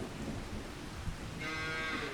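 Cattle low in a farming survival video game, one drawn-out moo rising over a steady rain-like game ambience and swelling in the second half of the short stretch.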